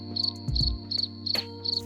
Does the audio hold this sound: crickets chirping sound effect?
yes